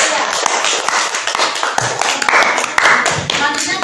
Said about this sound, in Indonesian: Terima kasih tepuk tangan untuk kelompok 3